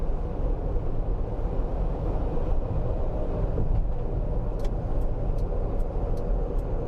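Inside a Fest E-Box electric utility van climbing a highway hill in normal drive mode, a steady loud rumble of road and wind noise fills the cabin, with a few faint ticking clicks late on.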